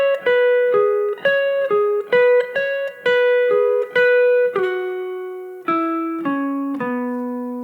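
A blues lick is played slowly on electric guitar, a run of clear, sustained single notes and slides stepping downward in pitch, loud and alone with no talking.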